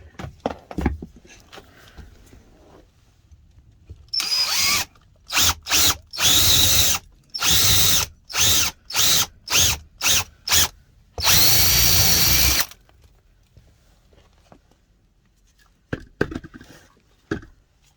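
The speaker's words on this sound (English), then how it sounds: "Drill a hole straight through for the bolt to go in." A power drill whirs loudly in a series of short bursts, then one long continuous run, with brief pauses between, close to the microphone, drilling a bolt hole while installing a refrigerator in a Freightliner Cascadia truck.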